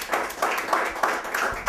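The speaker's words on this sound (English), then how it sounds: "Round of applause for Dave Getchell." A few people clap at a small crowdfunding launch party, with a handful of soft, rhythmic bursts of applause over a short moment.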